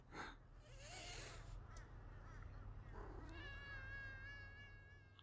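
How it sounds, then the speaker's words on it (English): A cat meows in drawn-out, unhappy wails in the video game Thirty Flights of Loving, one brief cry followed by a longer complaining yowl over a steady low background hum. "Sounds like there's a cat. Not very happy."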